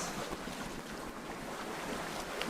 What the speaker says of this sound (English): now the winds are starting to come in from the south